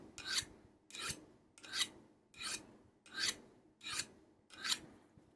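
A knife is honed on a honing steel with seven evenly spaced, quiet rasping strokes, each a short close scrape followed by a brief pause.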